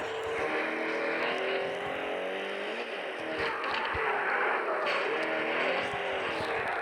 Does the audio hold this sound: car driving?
yes